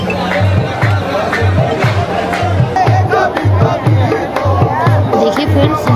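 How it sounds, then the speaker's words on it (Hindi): Large, dense crowd at the Ajmer Dargah during Urs, a loud, close hubbub of many voices with chanting and shouts, over a rhythmic low drum-like beat. "बाहर निकलते हुए आपको दिखाती जा रही हूँ कि कितनी भीड़ है यहाँ पे"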